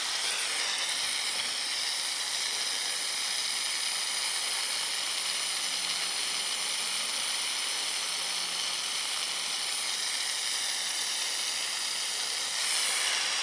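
A Lexivon LX-771 micro torch flame burning at medium setting gives a steady, close, even roaring hiss that holds unchanged for the whole stretch with no talk.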